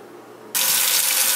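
Running water suddenly gushes from a sink tap as a menstrual cup is rinsed with a salt cup wash, an abrupt switch from near quiet to a steady, loud hiss.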